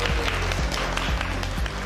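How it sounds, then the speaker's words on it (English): A small audience gives a round of applause, with a few distinct claps standing out over a steady patter of hands, fairly close and brief. "Everyone give him a round of applause."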